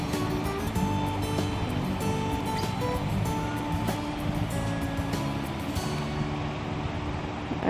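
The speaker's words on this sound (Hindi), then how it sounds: "अब मैं इसमें थोड़ा सा वाटर मिला दूंगी।" Chicken masala frying in oil loudly sizzles as water is added, a dense, steady crackle and hiss that runs without pause from start to finish.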